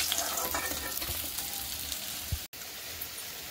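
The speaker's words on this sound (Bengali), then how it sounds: "আর বাকি মাছগুলো দিয়ে দিলাম গরম তেলে, দিয়ে এগুলোকে একটু ভেজে নেবো।" Fish frying in hot oil crackles and sizzles up close, with a few stirring knocks and a brief dropout partway through; no one speaks.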